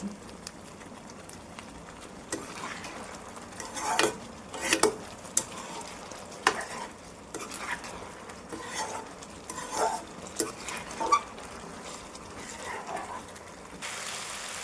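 Vegetable manchurian being stirred and fried in a pan, with soft intermittent scraping and clinks of a utensil against the pan over a faint low sizzle, no talk.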